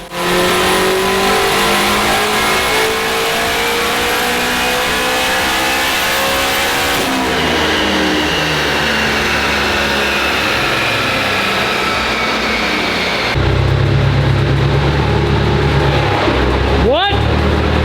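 A tuned Honda engine revving hard on a dyno at 11 pounds of boost, holding high, climbing in pitch through the gears, loud and continuous, with voices faintly underneath.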